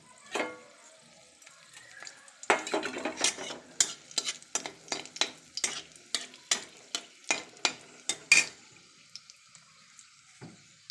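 Dried chillies and mustard seeds fry in oil in a kadai, giving a faint sizzle and then a quick run of sharp scraping stirs or spatters, close and fairly quiet.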